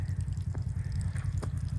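Water drips from a newly installed drip irrigation line along a vineyard row. The drips are faint and irregular over a steady low rumble, with no voices.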